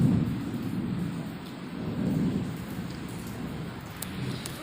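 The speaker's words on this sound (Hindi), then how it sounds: "देखो केते जोर वर्षा होची बाहर" Heavy monsoon rain pours steadily outside a house, a dense low rumbling wash with soft swelling surges like distant thunder, fairly faint and continuous with no voices.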